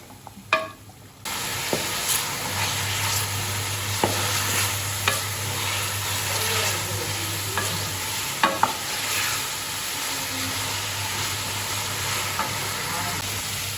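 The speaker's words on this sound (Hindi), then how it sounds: "और इसको जो है ना कलर चेंज आने तक हम इसको इसी में फ्राई करेंगे" Chicken pieces sizzling in hot oil in a pan while being stirred for bhindi gosht, a steady loud frying hiss broken by repeated scraping stirs and clacks, with no talking.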